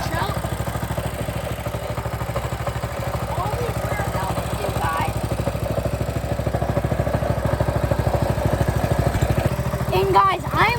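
The small gasoline engine of a Coleman mini bike runs close by with a steady, rapid putter throughout, while a young person talks over it.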